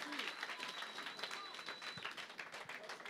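A church congregation applauds during a Sunday worship service, with steady, dense clapping throughout and crowd voices mixed in.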